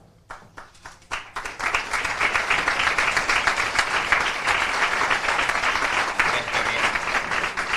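Audience applause for the 2019 flag bearer at a Centro Aragonés Pilar festival event: a few scattered claps first, then steady, loud, sustained clapping from a crowd.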